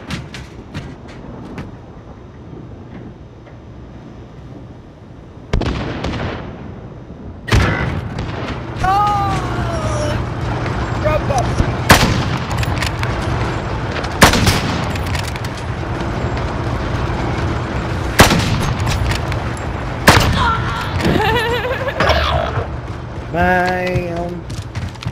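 Rifle shots in a custom sniping search-and-destroy video game match, a series of sharp loud booms spaced a few seconds apart over steady game background noise, with a voice talking at times.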